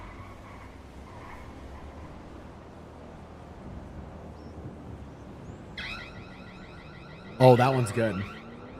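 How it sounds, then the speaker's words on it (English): A house alarm sound effect blares in at mid-clip as a harsh, steady electronic tone, jumping louder near the end, with someone talking over it. "House alarm sound."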